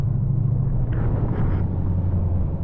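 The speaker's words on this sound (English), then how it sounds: "And right now it sounds like the train is going to pass through." Near the Whittier tunnel in Alaska, a train rolls past with a loud, steady low rumble and droning hum, a few faint higher clanks surfacing midway while the heavy drone continues without a break.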